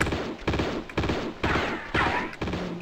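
A steady rattle of repeated shots in a video game, evenly spaced bursts roughly every half second, fairly loud and close with a faint voice near the end.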